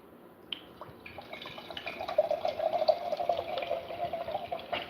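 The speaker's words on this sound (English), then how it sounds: "Just listen to the Ozarka spring water." Ozarka spring water is poured into a container, starting with a few drips before a steady gurgling pour builds up close and clear, with no talk over it.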